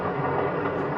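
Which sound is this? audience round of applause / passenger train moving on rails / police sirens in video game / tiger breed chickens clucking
passenger train moving on rails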